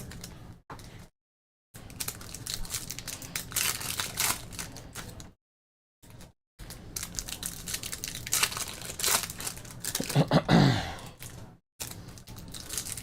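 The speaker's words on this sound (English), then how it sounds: "Now let's rip the packs open." Upper Deck Parkhurst hockey card packs being ripped open by hand, close crinkling and tearing of foil wrappers in repeated bursts with brief silent gaps.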